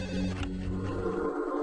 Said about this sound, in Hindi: देर रात आए एक फोन की घंटी ने भोपाल के मुख्य अस्पताल के सीनियर कंसल्टेंट डॉक्टर भंडारी को जगा दिया।